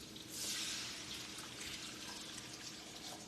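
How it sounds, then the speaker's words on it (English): Water pours steadily into a cooking pot for a chicken-base gravy, a continuous gushing, splashing rush that swells at the start and holds fairly even throughout, with no talk over it. "I'm just gonna put the water in now."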